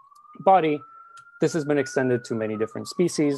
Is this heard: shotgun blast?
no